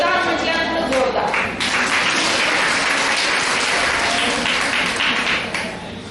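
Loud, sustained applause from a workshop audience at a Save Girl Child awareness session, dense clapping filling about six seconds before tapering slightly at the end.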